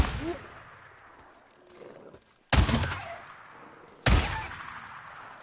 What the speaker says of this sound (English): This shotgun is terrible